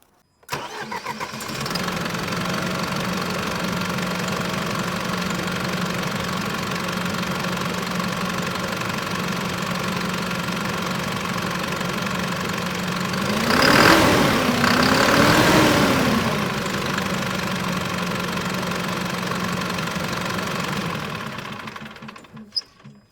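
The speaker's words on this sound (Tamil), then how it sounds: "வண்டியோட இன்ஜின் சவுண்டை வந்து இப்போ நீங்கள் கேளுங்கள்" A five-litre turbo diesel engine in an Eicher 6019 six-wheel bus idles with a deep, steady rumble, briefly revving twice in the middle before settling back to idle; no talking.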